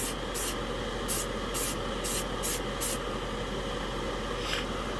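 Spray can of primer sprayed onto a brick wall in several short hissing bursts, a quick series of close sharp sprays followed by one faint final puff.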